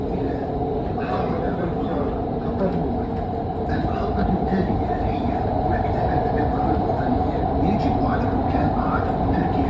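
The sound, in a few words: train running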